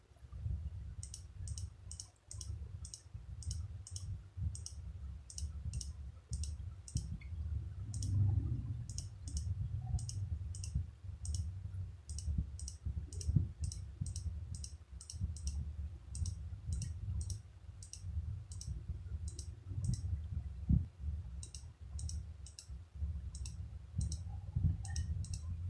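A computer mouse clicks steadily during photo editing, producing many sharp, quiet clicks in irregular bursts, some in quick pairs, over a low hum of room noise for the whole stretch, with no talking.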